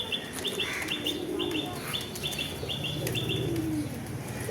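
Sick pigeons with a nerve ailment, kept indoors, give soft repeated chirps and low coos, with a few short flutters, all at close range over a low background hum.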